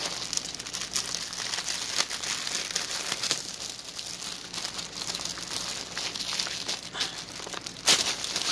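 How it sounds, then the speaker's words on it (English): A cross stitch kit is pulled out of a plastic bag, giving continuous close crinkling and rustling of plastic with a sharp crackle near the end, and no voices. "I'm going to take it out of the bag."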